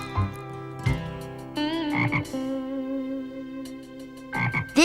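A frog sitting in a farm animal's water bowl croaks in several separate, close, resonant calls spaced over a few seconds, with quiet gaps between them.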